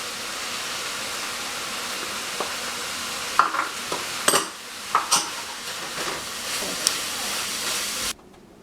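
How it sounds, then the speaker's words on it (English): Onions go into ground turkey browning in a pan for tortilla soup, a steady close sizzle with scattered scraping clicks from stirring, alone with no talk. "right before the turkey gets done, we're going to add our onions."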